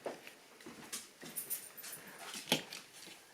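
A puppy whimpers and yips in a series of short, faint, breathy cries, scattered irregularly over a few seconds with soft handling noises nearby.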